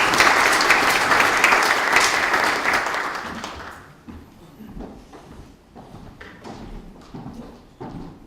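An audience at a news outlet's founding anniversary ceremony gives loud, dense applause that holds for about three seconds, then fades into scattered footsteps and thuds as someone walks forward.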